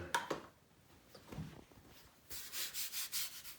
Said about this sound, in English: I'm gonna dust it with some flour, and I'm gonna use my bench scraper